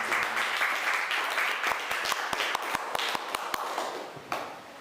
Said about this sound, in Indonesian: Boleh dong tepuk tangannya betul.